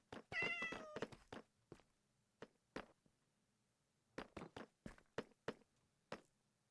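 A cat meowing in Minecraft, one clear meow near the start followed by a scattering of soft footstep-like thuds and taps, all fairly faint with no talk.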